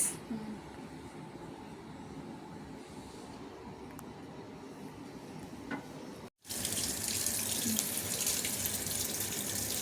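A kitchen tap runs while something is washed, a steady hiss of flowing water that stops briefly and then gushes back more strongly.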